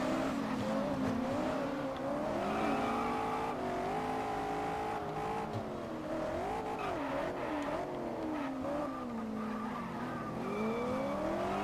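Corvette launching at a race start in the driving game Test Drive Unlimited, its engine loud and continuous, revving up and down through gear changes with some tire squeal, no talking over it.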